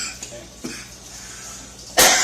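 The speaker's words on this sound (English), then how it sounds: "I'll be coughing a lot probably" A sick person in a kitchen gives one sharp, loud cough near the end, after faint clinks and small movement sounds.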